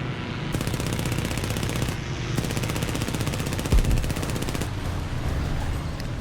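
Rapid machine gun fire from a P-26A-34 aircraft in the War Thunder air combat game, a long dense rattle in sustained bursts with brief gaps, loud and close, broken by one heavier thump near the middle.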